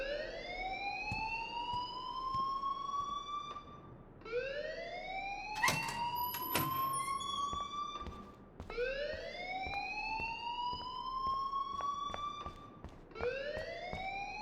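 Fire alarm in the Life is Strange video game, a loud repeating rising electronic wail that sweeps up again every few seconds, with a couple of brief sharp clanks partway through.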